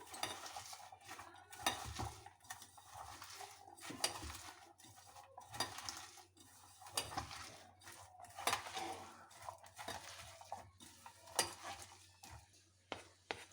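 Chicken pieces being mixed with salt by hand in a bowl for pakoras, a steady run of soft squelching, clinking and rubbing noises, close and fairly quiet, with no talking.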